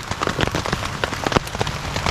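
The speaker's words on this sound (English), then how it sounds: "Since it is all pouring down the rain" Heavy rain pours down onto a camp tarp in a creek valley, a dense, steady patter of countless drops drumming close overhead with no voices.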